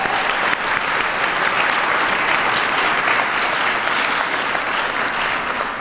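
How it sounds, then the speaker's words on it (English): Sustained, loud applause from a crowd at a citywide partners meeting, a thick unbroken wash of many hands clapping at a steady level throughout. "if we could please just give my team a round of applause"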